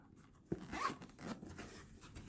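Zipper on a GoPro Hero 7 carry case being pulled: one quick rasping zip, fairly close but quiet, followed by soft handling rustles.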